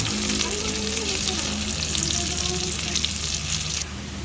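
Squid balls and kikiam sizzle steadily in hot oil, cooked for pancit canton, a close, continuous frying hiss with faint background noise and no talk.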